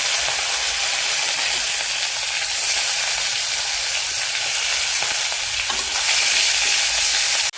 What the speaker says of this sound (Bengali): এবার আমি দিয়ে দিচ্ছি এতে পেঁয়াজ